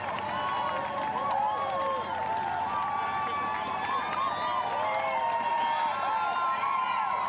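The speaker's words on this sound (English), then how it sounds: "Big crowds, lots of cheers," Spectators packed along the 2017 London Marathon course cheer and shout steadily throughout, a dense, continuous wall of crowd noise with whistles and rising voices on top.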